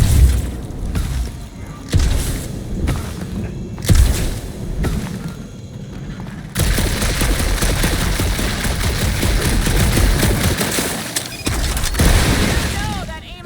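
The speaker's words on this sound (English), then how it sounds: "that aimless shooting isn't gonna scare the monsters away" Gunfire in Guardians of the Galaxy, set on a dark monster planet: a few separate loud bursts open the stretch, then give way to a long, dense, continuous barrage, with voices partly heard over the shooting.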